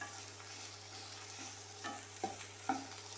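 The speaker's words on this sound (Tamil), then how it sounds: "அந்த அளவுக்கு நல்லா ஃப்ரை பண்ணிக்கலாம்" Okra fries in a pan for a South Indian buttermilk curry, giving a faint, steady sizzle with a few soft pops and clicks near the end.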